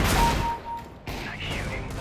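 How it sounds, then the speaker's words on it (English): A burst of video game gunfire rattles loudly up front, then cuts to a brief lull before more shooting and a rising tone, with a voice speaking over part of it. "Nice shooting."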